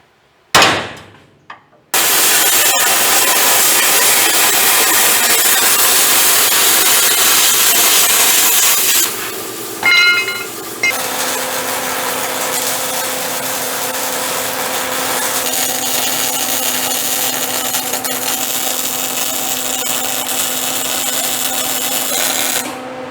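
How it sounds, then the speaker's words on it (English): A power cutting tool works through emergency brake cable brackets on a car, a loud continuous grinding whine running for several seconds, briefly stopping, then resuming with a steadier lower tone to the end. "Then I gotta cut these emergency brake cable brackets."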